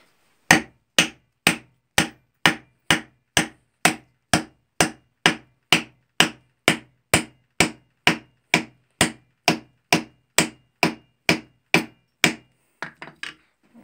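A hammer strikes a carbon bracket held in a vise in a steady, evenly paced series of about twenty-five loud sharp blows, then a few quicker lighter taps.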